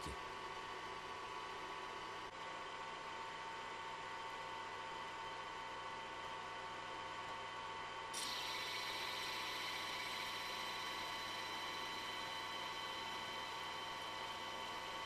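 A metal lathe making a facing cut under automatic feed, with a steady, continuous machine hum and a faint grinding tone that steps up slightly in intensity partway through, with no talking.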